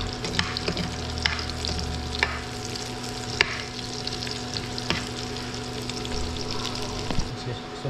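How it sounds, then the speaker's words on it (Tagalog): Vegetables sauté in a pan for a catch-and-cook meal: a loud, steady sizzle with regular sharp clicks and scrapes of stirring, close up. "Gisa lang po natin ito."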